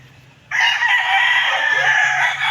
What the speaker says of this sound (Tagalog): Madami silang manok.